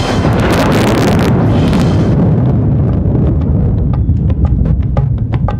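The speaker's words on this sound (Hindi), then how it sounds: "छाई घटाएं घोर तो बादल गरज पड़े" Thunder as a sound effect, a loud, heavy rumbling crack that rolls on and slowly fades, with scattered sharp ticks as it dies away and no voice over it.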